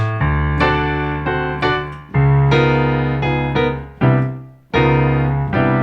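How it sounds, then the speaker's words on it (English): Rich sustained chords in a tritone substitution progression, played one after another, each struck and left ringing for about a second before the next, loud and close. "that's the sound of a tritone"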